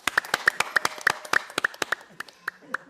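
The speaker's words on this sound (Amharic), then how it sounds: "አጨብጭቡ" Handclaps at a community association graduation gathering come as a quick run of sharp, close claps, roughly a dozen in three seconds, sounding like only a few people, with a voice faintly present.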